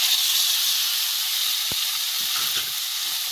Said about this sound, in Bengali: টমেটো, যে টমেটোটা বেটে রেখেছিলাম ওইটা দিয়ে দিচ্ছি,